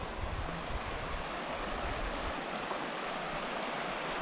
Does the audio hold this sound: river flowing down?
yes